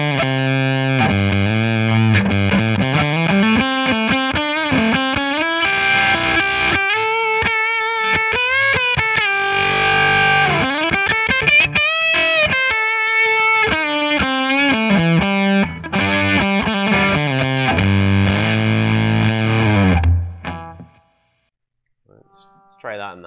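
Electric guitar played through a Fender Hammertone Fuzz pedal on the humbucker pickup setting, with thick, saturated fuzz tones on sustained notes and sliding chords, loud and close, before the playing cuts off and fades near the end.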